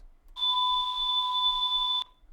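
A SuperCollider synthesized tone passed through a high-quality bandpass filter: a clean, steady electronic beep with a bright overtone, holding for under two seconds before cutting off abruptly.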